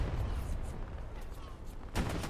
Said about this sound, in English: There's MG fire now coming in towards